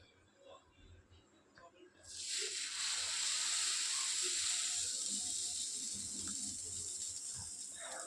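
Dosa batter hits a hot, onion-rubbed pan and bursts into a loud, steady sizzle that holds and slowly fades. Faint kitchen clatter comes just before it.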